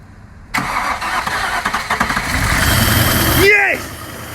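A Range Rover Classic LSE engine, suspected of injector trouble, cranks and catches abruptly, then runs loudly and roughly for about three seconds before cutting out sharply, leaving only faint residual noise.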